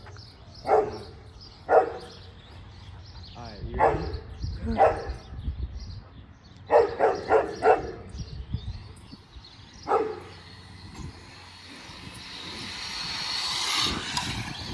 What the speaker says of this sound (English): This dog's barking, bro.